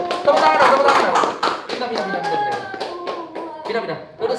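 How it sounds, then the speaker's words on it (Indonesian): An audience at an Indonesian talk show claps its hands in sharp, fairly regular bursts, close and moderately loud, while voices talk over the clapping. "Tepuk tangan."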